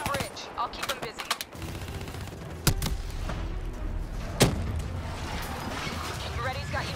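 Sustained gunfire from a modern military shooter, Call of Duty Black Ops III, with rapid automatic bursts and two sharp louder shots standing out over a constant battle din, while voices talk throughout.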